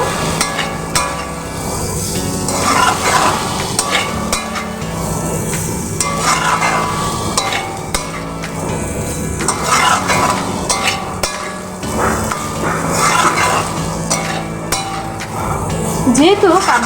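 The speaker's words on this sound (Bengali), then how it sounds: "কাবলি ছোলাগুলো খুব ভালো সেদ্ধ হয়েছে মশলার সঙ্গে ভালো করে আমি একটু নেড়ে সেড়ে নেব" Boiled kabuli chickpeas are stirred with spices in a pan. A spatula scrapes and clinks against the metal in regular, close strokes over a low background sizzle.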